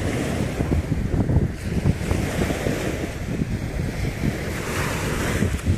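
Sea waves wash onto a sandy spit beach on the Sea of Azov, a continuous rolling surf roar with heavy wind buffeting the microphone and no voices.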